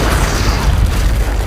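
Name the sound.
big explosion blowing up a safe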